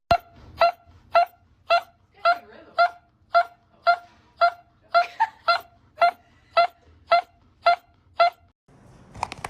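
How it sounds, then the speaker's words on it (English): A dog coming out of anesthesia lets out a steady series of short, high whimpering cries, evenly spaced about every half second and fairly close, with a brief rustle at the end. "This dog was waking up from anesthesia and started glitching."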